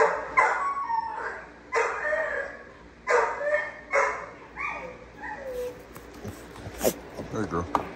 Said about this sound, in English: He might be the best dog in the world